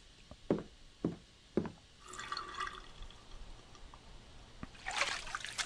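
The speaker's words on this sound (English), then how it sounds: "He splashes water on his face with his glasses on." Water splashing on a man's face at a sink in Silent Hill: Shattered Memories: three soft separate drips or splashes, then a longer trickling splash and a final burst of water, fairly quiet and close.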